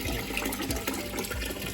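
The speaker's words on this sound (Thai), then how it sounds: "จะให้ดูว่าน้ำไหลออกมา นี่ครับ อันนี้คือน้ ำน้ำใหม่ ครับที่เราเติมเข้าไปใหม่นะครับ" Fresh water gushing steadily into a fish tank during a water change, a continuous loud pouring and splashing with no speech.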